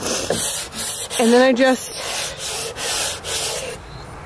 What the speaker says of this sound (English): I just wrap the sandpaper around the wood.